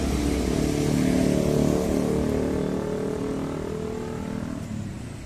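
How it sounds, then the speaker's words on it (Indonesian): A military vehicle drives past on a Jakarta street. Its engine roar swells as it nears and then fades as it moves away, a broad rumbling whir heard over street ambience. "Oh, ada kendaraan tentara."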